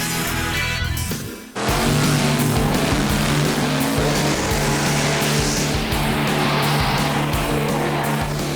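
A loud, sustained race car engine roar, dense and powerful, following a brief quieter moment and holding steady as the car revs hard up close at a Las Vegas drag strip.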